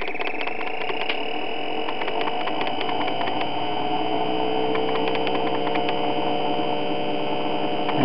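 A pulse motor generator rotor whirs up to about 1,500 RPM, a steady electric hum with a rising, sweeping whine and faint ticking pulses, close and continuous.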